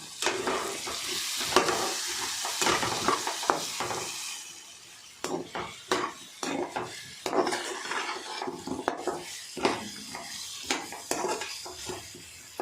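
Ginger garlic paste frying in a pan for a drumstick and moong dal dish, a steady sizzle broken by repeated scraping strokes of a spoon against the metal, close and fairly loud.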